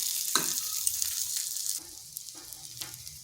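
Strips of egg batter for a snack fry in a pan over low heat, giving a soft, steady sizzle with a few light scrapes that drops quieter partway through.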